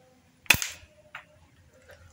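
A single sharp crack of a Hi-Capa airsoft pistol firing a metal BB with a brief ringing tail, followed by a faint knock a moment later as it hits a glass bottle; no talking.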